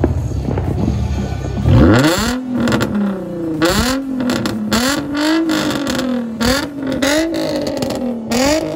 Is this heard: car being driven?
yes